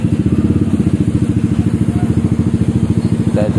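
A Yamaha NMAX 155 scooter fitted with a racing exhaust fires up and settles into a loud, close, throbbing idle with a rapid, even pulsing beat that runs for the whole few seconds.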